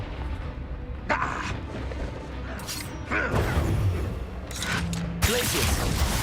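Explosions from a Confringo fire spell in a video game, heard as several loud booming bursts with crackling debris among continuous battle noise and spell sounds.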